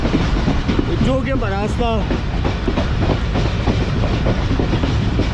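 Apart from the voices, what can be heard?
Mohen Jo Daro passenger train on rails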